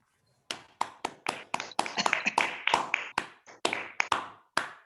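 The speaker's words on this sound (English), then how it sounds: "can we hear a big round of applause for both Toastmaster Somashekar and the spea" A burst of scattered hand claps from a small group at a Toastmasters club meeting, quick sharp slaps overlapping unevenly for several seconds before trailing off.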